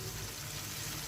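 Spice mix frying in a pan for a Bengali dish gives off a steady, dense sizzle throughout, with no one speaking.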